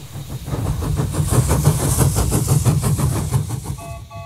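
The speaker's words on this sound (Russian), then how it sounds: "наш поезд останавливается" A cartoon train chugs steadily with rhythmic mechanical beats and hissing steam, slowing to a stop; a brief high whistle-like tone sounds at the end.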